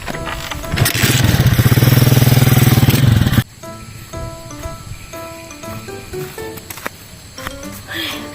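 A motorcycle engine runs loud and close for about three seconds, then cuts off abruptly, leaving quieter scattered tonal sounds for the rest.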